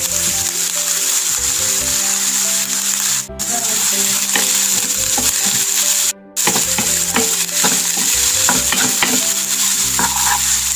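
Sliced onions frying in a pan with salt for Kannur-style madakku pathiri, a loud continuous sizzle broken by repeated scraping and clinking stirs and two brief gaps, close up.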